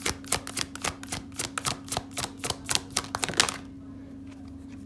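Tarot cards handled during a zodiac reading make a rapid, close, even run of crisp card clicks for about three and a half seconds, then stop, leaving a quiet hum.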